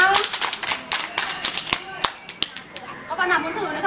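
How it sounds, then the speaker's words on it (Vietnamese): Kindergarten children clap for a classmate, a quick scatter of sharp, uneven hand claps over a few seconds that thins out toward the end, with a voice heard faintly at the close. "Rồi, cho bạn một tràng vỗ tay nào."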